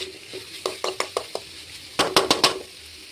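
Dried chillies, onion, garlic, ginger, coconut pieces and curry leaves sautéing in a pan: a faint sizzle under a quick run of sharp utensil knocks against the pan, then a short louder cluster of scrapes and clatters, close up and with no voices.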